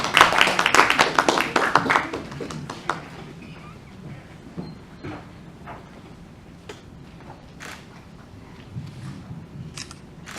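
An audience applauds an outstanding scientist being honoured at an awards ceremony, a loud burst of clapping that quickly thins to scattered claps and faint camera-like clicks.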